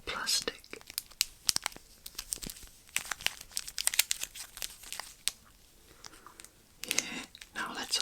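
Plastic wrapper of a salted caramel Ritter Sport chocolate bar crinkles and tears up close, in many sharp irregular bursts of rustling, with soft whispered sounds in between.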